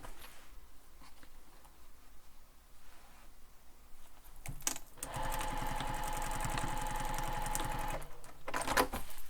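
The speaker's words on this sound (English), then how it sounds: "So we're going to stitch that down." A sewing machine bastes a grab handle onto a backpack. Quiet handling comes first, then a steady, close, mid-loud mechanical stitching run fills the second half, with a short pause near the end.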